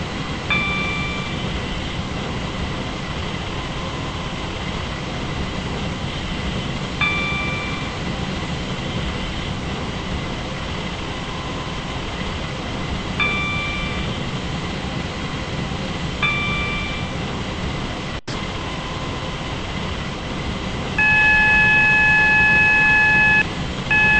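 An express train in a Roblox-style railway game runs on, a continuous mechanical rumble and hum with faint electronic tones, close and steady, rising slightly in loudness near the end, with no talk.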